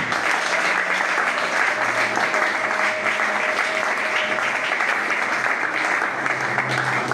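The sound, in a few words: congregation applauding to acclaim the Lord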